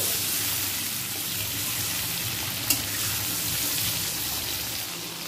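Bhetki fish fat and mustard oil fry over a low flame, giving a steady, close, continuous sizzle with one brief click midway and no talking.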